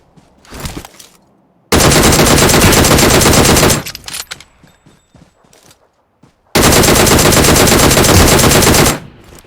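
Automatic rifle fire in the PUBG Mobile game, two long, loud sustained bursts with a short burst before them and scattered single shots in between.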